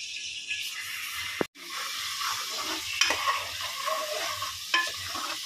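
Onion and tomato sizzle in hot oil for a quick chicken curry, a steady close frying hiss broken by scraping stirs and one sharp clatter of a spoon against the pan.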